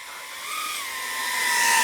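Small high-pitched whine from an Axisflying Cineon 35 V3 cinewhoop drone weighing about 401 grams, its motors buzzing loud and close and rising in pitch as it flies.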